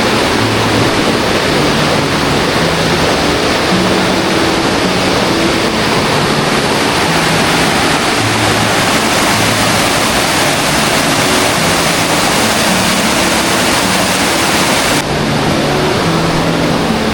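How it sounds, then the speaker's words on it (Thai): A steady, loud rush of falling and flowing water from Tat Ton waterfall and its stream in Chaiyaphum, Thailand, heard from a bridge, fills the whole span, constant and close, with no voices. "แล้วก็เห็นลำห้วย ลำทานน้ำตก"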